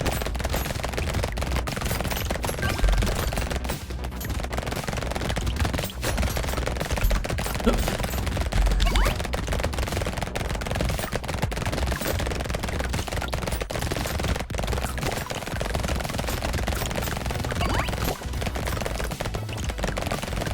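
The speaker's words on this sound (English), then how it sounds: "amazing with these sorts of guns. Bullets everywhere." Dense, nonstop automatic gunfire from many weapons in the arena shooter Brotato, a loud, steady barrage of rapid shots running throughout with no talking.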